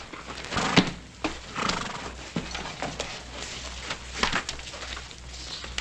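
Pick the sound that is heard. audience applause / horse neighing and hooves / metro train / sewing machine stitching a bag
horse neighing and hooves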